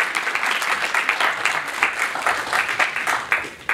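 A live audience applauds a guest entrepreneur at an employment forum, with dense, sustained clapping from the crowd that holds steady and continues throughout without any talking.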